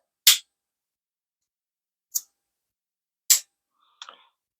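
An old, dirty Scouts Canada pocket knife blade snaps shut in four crisp, isolated clicks spaced about a second apart, loud and close in an otherwise silent room, the last one softer with a small rattle.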